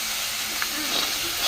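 Local chicken frying in a pan gives off a steady, close sizzling hiss that holds evenly throughout, with a faint voice murmuring underneath.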